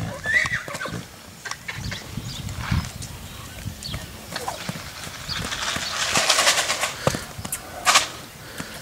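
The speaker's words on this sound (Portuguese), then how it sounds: "Pintura Aguilar é uma égua todilha." A purebred Lusitano mare neighs loudly at a stud farm while hooves clop and shuffle nearby, with scattered knocks and rustling throughout.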